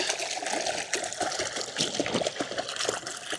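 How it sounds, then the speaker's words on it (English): A mountain stream near Skardu, Pakistan trickles and gurgles close by in a steady, bubbling flow with small splashy bursts and no voices. "I can hear water"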